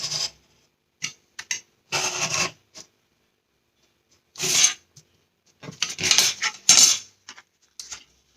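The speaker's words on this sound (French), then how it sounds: "On va venir couper tout ça. Sur le trait." Paper being cut along a drawn line for a sea-themed pop-up album, heard as short close bursts of crisp snipping and scraping separated by silent gaps, with no voices.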